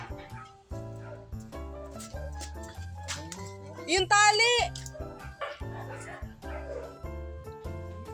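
A dog yips, barks and whimpers in bursts, with a high whining cry in the middle, while a person speaks briefly nearby in Filipino.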